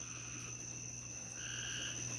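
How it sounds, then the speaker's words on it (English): Steady chorus of frogs croaking and trilling together at night, a continuous layered drone with high insect-like whistles, no voices. "People want to hear frogs. We got frogs now."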